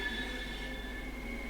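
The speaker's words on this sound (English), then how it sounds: "Let's watch our train depart." A Class 465 electric train in Train Sim World 3 pulls away from a station, a steady motor whine and high sustained tonal hum with a low rumble underneath, moderately quiet and without voices.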